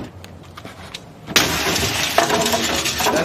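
A glass refrigerator panel breaks with a sudden loud crash, then crunches and rattles as debris settles. Outdoors, with faint background noise before the impact.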